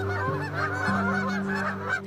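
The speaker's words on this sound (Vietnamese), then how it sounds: "Goose." A goose honks loudly and close by, giving a quick series of nasal, trumpeting calls one after another.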